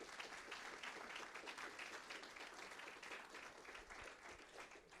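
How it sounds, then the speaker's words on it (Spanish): A church congregation claps in praise during a service, a faint but continuous wash of many hands heard from a distance with no talking over it. "Dele un fuerte aplauso al Señor"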